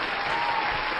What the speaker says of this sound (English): I'm going to give myself applause again